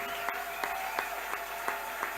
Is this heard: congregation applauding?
yes